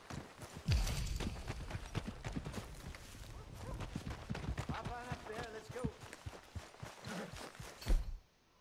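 Steady horse hoofbeats clip-clop at a walking rhythm throughout in the video game Red Dead Redemption 2, with voices talking over them and a brief louder thump near the end.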